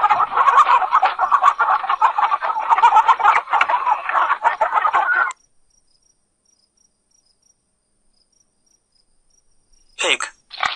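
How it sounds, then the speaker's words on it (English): A chicken clucks in a steady, busy stream for several seconds, then silence, ending with a brief sharp call. "Chicken."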